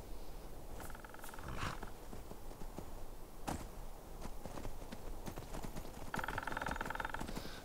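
Horse hooves clop in a steady rhythm while riding through Skyrim, a soft, fairly quiet gait over ambient game sound with a few brief sharper clicks.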